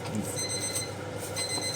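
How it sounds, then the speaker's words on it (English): Kitchen timer beeping in repeated high electronic tones, fairly steady across the moment, over light background room noise in a home kitchen. "Stop beeping whilst I've got sticky mixtures."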